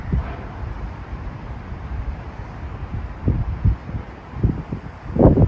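Low, gusty wind buffets outdoors with rumbling bursts hitting the microphone, growing stronger toward the end.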